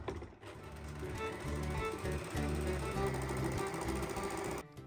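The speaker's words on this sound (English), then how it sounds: "I'm going to finish the edges of the seams first with my overlocker" An overlocker finishing the seam edges of a skirt runs in a loud, fast mechanical chatter close by for several seconds, then stops abruptly.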